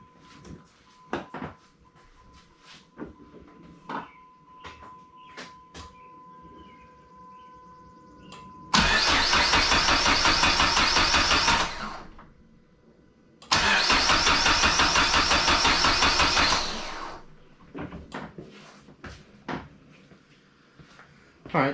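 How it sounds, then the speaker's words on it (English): A Dodge SRT-4 with a freshly installed turbo cranks and fires twice, each run a loud roaring burst of several seconds settling toward idle, separated by a short pause, with clicks and shop clatter before the first start. "So we're going to start it up. We're going to bring it up to temp."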